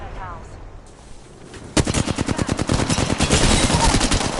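Rapid automatic gunfire in Apex Legends bursts out after a quieter opening, a dense run of sharp, evenly spaced shots that keeps going to the end, loud and close.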